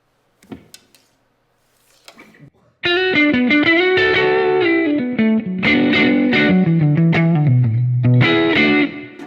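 Distorted electric guitar played through Kemper speaker impulses modeled on Pro Reverb amp speakers, a few faint plucks before a loud sustained run of chords and melodic lines with effects.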